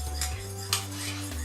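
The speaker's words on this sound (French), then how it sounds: "Nous allons bien mélanger cette cuillère à café de sucre, évidemment." A spoon stirs a teaspoon of sugar into milk in a cup, clinking against the sides a few times in close, moderately loud metallic taps over a steady background hum.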